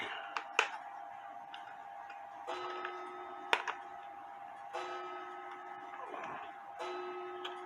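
Antique Schmeckenbecher cuckoo quail clock from the 1950s ticking quietly on a workbench, with a few sharp clicks and clacks of handling between the soft ticks.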